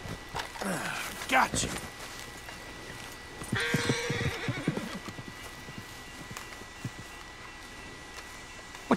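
Horses in Red Dead Redemption 2 whinny loudly and clop their hooves nearby, with a shrill neigh early on and scattered hoof steps following, under quiet background ambience.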